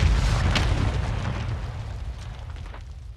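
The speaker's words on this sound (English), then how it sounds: "Mortar strike." Mortar strike explosion in the video game Call of Duty, a loud deep rumbling blast that starts at full force and slowly dies away into a long fading roar, with no talk over it.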